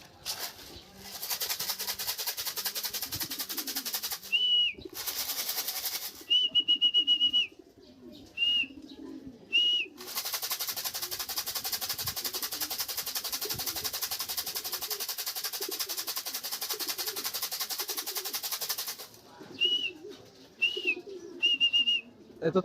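Racing pigeons coo and whistle in short repeated calls amid a steady broadband hiss of wind or noise that cuts in and out, the calls fairly close and clustered in brief bursts.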